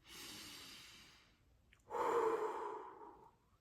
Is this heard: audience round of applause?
no